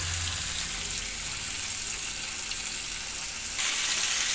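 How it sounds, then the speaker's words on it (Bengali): Boiled cabbage fries in a pan, a soft continuous sizzle that swells louder near the end, fairly faint and without talk. "একটু ভাজা ভাজা হয়ে যাক"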